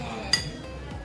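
Glasses of brandy and champagne clink once in a toast at a French-style dinner in a lakeside guesthouse, a single bright chime over soft room murmur.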